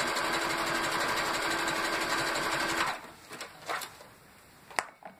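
A sewing machine runs a zigzag stitch along the edge of fabric for a shoulder bag. It whirs steadily and loudly for about three seconds, then stops, followed by a few faint handling clicks.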